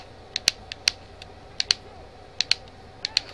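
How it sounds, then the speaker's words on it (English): Right thumbstick on a game controller flicked quickly right and left for a Madden 16 double juke, giving faint, sharp plastic clicks and ticks in small pairs, close up and alone against quiet room hiss. "You're going to quickly flick the right stick right and left."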